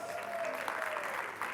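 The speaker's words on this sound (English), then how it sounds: "round of applause, yep" Audience at a business conference giving a short round of applause, a fairly faint, even patter of clapping with a thin tone running through it.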